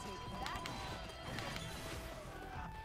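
Horses gallop through a Samurai Warriors battle, a busy clatter of hooves and scattered impacts under a dense din of fighting, with voices mixed into the noise.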